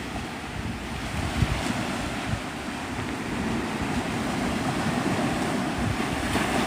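Surf breaks and rolls continuously at Navarre Beach, Florida, at sunrise, a broad steady roar of waves mixed with wind buffeting the microphone, with no voices.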